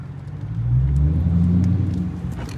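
A Dodge Challenger R/T's engine rumbles through a short rev that swells and fades over a couple of seconds, heard close up from inside the car on a downtown street early in the morning.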